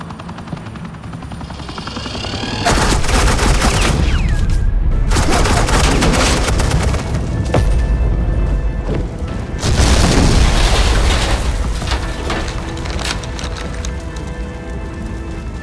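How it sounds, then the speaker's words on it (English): Suppressing gunfire in the Batman: The Enemy Within game, loud sustained bursts of automatic fire with booming blasts and a helicopter-like drone, two long intense volleys separated by a brief lull, no speech. "Suppressing fire."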